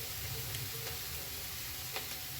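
Spinach (palak) fries in a pan with tomato for a gravy, giving a faint, steady sizzle with a few soft stirring taps and no voices.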